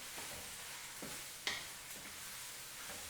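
Food being stirred in a hot frying pan before noodles go in, a faint steady sizzle with a few soft scraping ticks of the utensil, one sharper clink midway, no talking.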